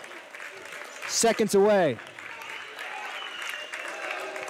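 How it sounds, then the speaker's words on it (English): Home crowd at a Wabash Valley men's basketball game against Southwestern Illinois cheers and applauds steadily in the final seconds, with a loud burst of whistling and shouting midway, all under continuous play-by-play commentary. "the crowd getting into it now"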